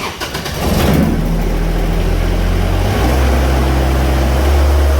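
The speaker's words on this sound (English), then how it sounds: "first thing you want to do is get this thing started" A subcompact tractor's engine cranks briefly, catches and settles into a loud, steady idle, heard close with a low rumbling drone and no talk.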